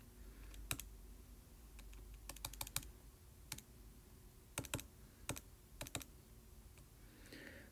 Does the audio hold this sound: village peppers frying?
no